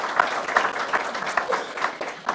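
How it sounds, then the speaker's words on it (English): A room of people applauds in a steady, continuous patter of clapping at moderate volume, heard alone without any voices. "Please give them a nice round of applause."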